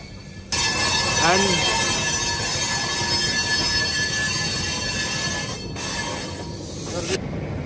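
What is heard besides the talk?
Andhra Pradesh Express train slowing, wheels squealing near New Delhi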